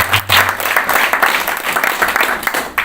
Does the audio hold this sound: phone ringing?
no